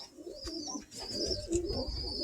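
Birmingham Roller pigeons in a loft coo softly and continuously, low rolling calls overlapping nearby with a faint high tone above them, no talking.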